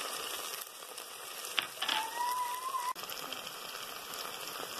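Ginger and garlic sautéing in a clay pot, a soft, steady sizzle and bubbling hiss throughout with a brief tonal squeak midway, quiet and close, no talking.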